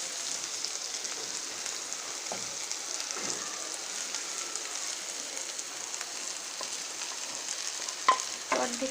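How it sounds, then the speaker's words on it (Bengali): Cooked rice going into a hot pan with scrambled egg and vegetables for fried rice, a steady soft sizzle with occasional stirring scrapes and taps against the pan. "অর্ধেকটা ভাত আমি এখানে দিয়ে দিচ্ছি"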